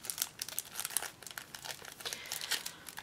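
Crinkly plastic packaging of vintage Beetlejuice trading cards rustles and crackles continuously as it is opened, close and busy with dense irregular crinkles throughout.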